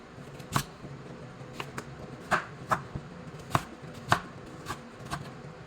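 A knife slices through sweet pumpkin for soup, giving about a dozen crisp, separate cuts against a board at an uneven pace, close and clear with no talking.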